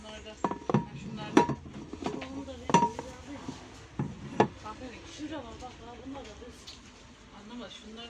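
A heavy frying pan is handled on a shop shelf, giving several sharp metallic clanks and clinks in the first few seconds, then quieter handling, with voices talking throughout.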